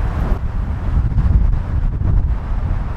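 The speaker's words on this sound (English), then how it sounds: "I couldn't tell that it was windy and stuff, but I just realized. Look at these trees blowing." Strong wind gusts buffet the microphone with a loud, low rumbling roar that swells and eases throughout, and no one speaks.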